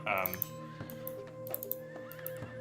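A horse archer unit's horse whinnies loudly in an Age of Empires-style strategy game match, a rising neigh with hoof clip-clops, while a commentator talks over the game sounds.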